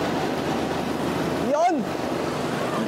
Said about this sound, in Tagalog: Wow, lakas ng alon!